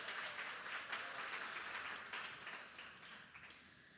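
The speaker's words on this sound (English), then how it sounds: "Give yourselves a round of applause for that." An audience at a social justice celebration gathering applauds itself, with a fairly faint, steady wash of clapping that gradually tapers off toward the end.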